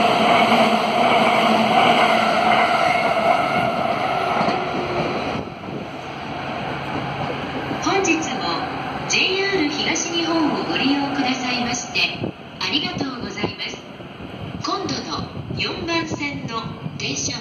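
A train pulls in to a Japanese station platform, its rumble and rolling wheels building then easing into squealing brakes, with a platform announcement voice speaking over the start.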